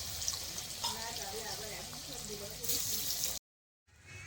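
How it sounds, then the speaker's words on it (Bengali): Chicken momos shallow-frying in hot oil, a steady close sizzle and crackle with light bubbling, swelling briefly louder before a short silence and a softer return. "এখন আর ওই পিঠে ধরনের মোমোগুলো সব এইভাবে ফ্রাই করে নিচ্ছি।"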